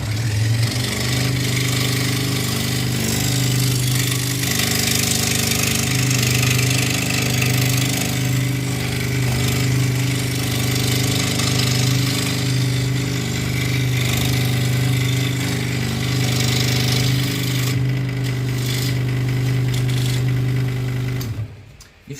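A scroll saw cuts through wood with a steady, loud mechanical buzz and reciprocating hum that runs continuously and close, stopping near the end; nobody speaks.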